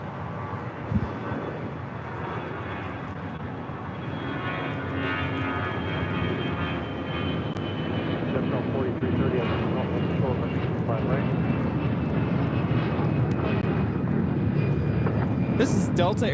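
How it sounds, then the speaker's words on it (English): Delta Airlines Airbus A319 taking off at LAX, a jet roar that builds gradually and stays strong and continuous, with people talking over it. "This is Delta Airlines 1143 taking off to Houston Intercontinental on an A319."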